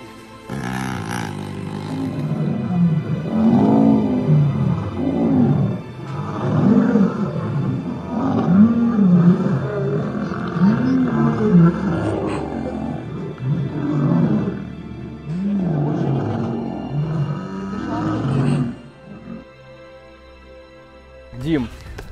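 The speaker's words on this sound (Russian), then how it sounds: "Ты опекаешь амурскую тигрицу Мирославу" An Amur tigress gives a run of deep, close growling roars that rise and fall in repeated bursts for most of the stretch, then trails off near the end.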